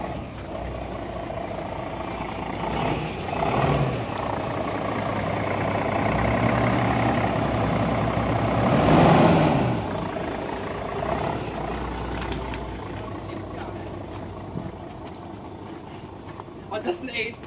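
The diesel engine of a Mercedes-Benz O405 bus idles and then revs up, swelling to a peak around the middle before settling back to a rumbling idle, with people talking nearby.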